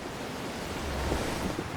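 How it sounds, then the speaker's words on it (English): Stormy ocean waves and wind roar in the video game Assassin's Creed Black Flag, a dense and steady broadband rush that stays loud and continuous throughout, with no talk. "Yeah, we've definitely hit a storm."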